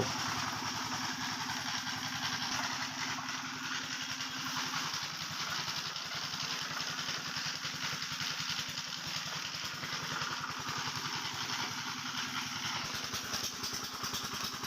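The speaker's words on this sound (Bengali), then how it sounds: "আর এদিক দিয়ে মেশিনের ভিতর একটা একটা করে দিতেছে" Engine of a sugarcane crushing machine running continuously outdoors, a loud steady rattling thrum with a fast regular pulse, close and unbroken throughout.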